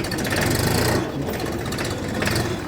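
A Xingtai 244 THL minitractor diesel engine running while driving in a raised first gear, a loud, steady, close chugging drone with fast rhythmic knocking and no speech.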